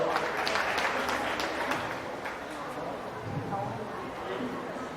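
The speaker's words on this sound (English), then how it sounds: "Somebody clap for him, will you?" Audience applause at a county fair dairy show follows a first-place junior two-year-old Holstein award, a steady wash of clapping running the full length at moderate volume, with crowd chatter and voices mixed in.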